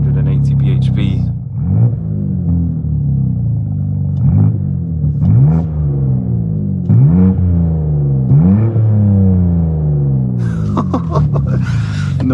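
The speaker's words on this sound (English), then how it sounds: "let's fire this beastly 3-litre inline six that produces 480 bhp." A 2024 BMW M2's 3-litre inline six rated at 480 bhp starts and is revved hard, with about half a dozen loud, close rising-and-falling rev sweeps over a steady idle rumble.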